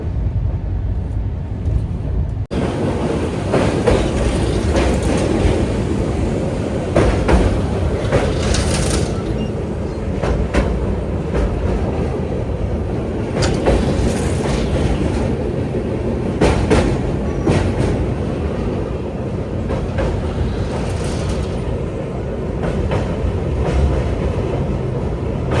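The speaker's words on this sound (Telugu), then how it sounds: "నియర్లీ 120, 125, 130 టచ్ అవుతుంది ట్రైన్" The Telangana Express from Secunderabad to New Delhi races at around 120 to 130 km/h, heard from inside an LHB First AC coach: a loud, continuous rumble and rush with clickety-clack from the wheels and no voices.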